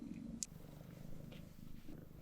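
A cat purrs softly and steadily close by, a low rumbling hum broken by a few faint clicks and rustles.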